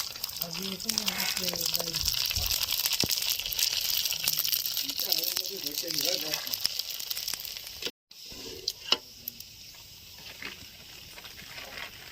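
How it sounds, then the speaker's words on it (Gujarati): Puris, fried Indian bread, sizzle while deep-frying in oil with a continuous bright hiss and crackle, as people talk over the frying. "પૂરી તળાઈ રહી છે અમારી, જોઈ લો"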